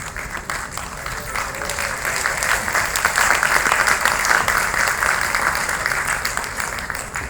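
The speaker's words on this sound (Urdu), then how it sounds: "تو میں چاہوں گا کہ آپ کھڑے اور سب آپ کے لیے تالیاں بجائیں پلیز" Arts council audience at a tribute to a celebrated artist gives sustained applause, a dense wash of clapping that swells slightly toward the middle and holds for several seconds.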